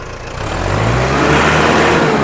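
An Arjun 605 tractor engine revs up loud and close, its roar swelling and holding at high power.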